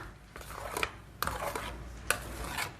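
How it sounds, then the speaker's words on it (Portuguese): A utensil stirs and breaks up scrambled egg in a pan, giving a few sharp clinks and scrapes against the pan over a quiet background, with no talk. "eu vou mexer esse ovo aqui dentro, ó. Eu vou quebrar todinho esse ovo aqui dentro."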